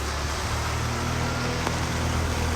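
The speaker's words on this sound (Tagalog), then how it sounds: "lakas ng ulan" Heavy typhoon rain pours down in a dense, constant roar that stays loud and unbroken throughout, with a low rumble underneath.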